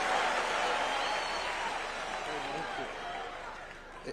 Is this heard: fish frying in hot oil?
no